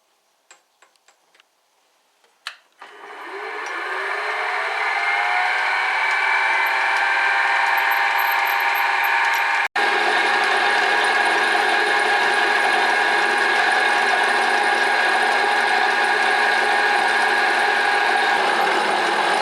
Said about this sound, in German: Deswegen fräsen wir es jetzt hochkant.